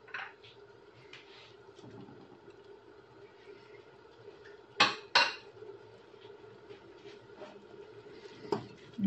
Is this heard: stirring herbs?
yes